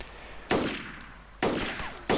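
Pistol shots in the video game DayZ: three sharp, loud cracks, each with a short decaying tail, spaced unevenly across a couple of seconds, with no talking over them.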